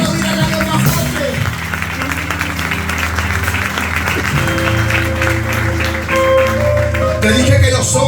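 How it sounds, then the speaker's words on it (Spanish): A church congregation applauding loudly during a Spanish-language sermon, sustained crowd clapping blended with music and voices throughout, fairly loud and continuous. "Si lo aplaudirán a lo más fuerte."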